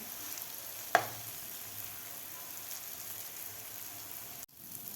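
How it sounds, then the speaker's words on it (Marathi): Egg and capsicum rings frying in a pan for a breakfast dish give a steady, soft sizzle throughout, with one sharp click near the start and a brief dip in the sound near the end. "आता खालची बाजूसुद्धा आपल्याला 1-2 मिनिट फ्राय करून घ्यायची आहे."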